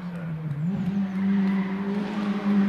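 A racing car engine at a hill climb holds a steady high-revving drone, dipping briefly then climbing and sustaining its pitch, heard from a moderate distance.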